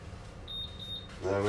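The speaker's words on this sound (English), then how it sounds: "The alarm should be going off any second now." An oven timer beeps in three quick high-pitched pulses, fairly clear over a low background hum, just before a voice starts talking.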